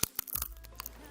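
Crisp bites into microwave-cooked potato chips: a few sharp, close crunches in quick succession, then quieter crackling chews.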